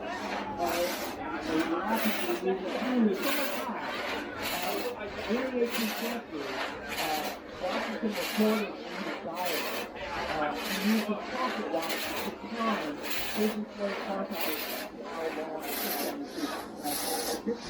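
A giant hand saw, worked with traditional woodworking tools at the Smithsonian Folklife Festival in Washington, DC, rasps through wood in steady back-and-forth strokes, about two per second, with faint crowd noise in the background.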